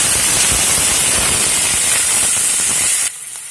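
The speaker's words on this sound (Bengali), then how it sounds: "কড়াতে রিফাইন্ড অয়েল দিয়ে কয়েকটা সর্ষের দানা ফোড়ন দিয়ে এরপরে কেটে রাখা সবজিগুলো দিয়ে দিচ্ছি, গাজর এবং মটরশুঁটি" Carrots and peas hit hot refined oil with spluttering mustard seeds in a pan for poha, giving a loud, continuous hissing sizzle that drops abruptly quieter near the end.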